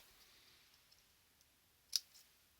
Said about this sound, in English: so I just snip